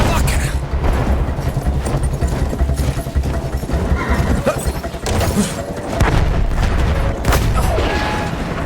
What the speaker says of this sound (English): Artillery already?